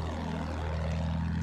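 A steady, droning aircraft engine from a combat video game with attack planes giving ground support, heard as a continuous low hum with no talk.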